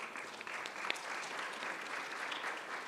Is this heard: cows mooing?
no